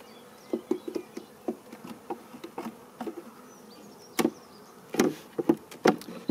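Honeybees at a spring apiary visit buzz around an old hive frame being cleaned of honey, close individual buzzes passing in irregular bursts over quiet background, with a few soft taps.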